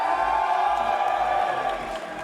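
A large arena crowd at a CS:GO esports event cheers for Virtus.pro, a dense, steady roar of voices that fades slightly toward the end.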